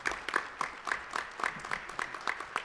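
Applause at a legislative forum of Hispanic state employees: a fairly faint, slightly distant round of hand clapping with a steady, fast rhythm throughout.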